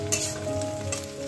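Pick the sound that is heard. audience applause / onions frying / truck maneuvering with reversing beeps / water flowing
onions frying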